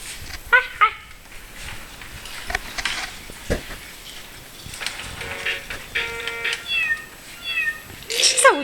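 A cat meows several times in short separate calls, fairly close and loud, alongside scattered rustling and handling noises in a quiet room.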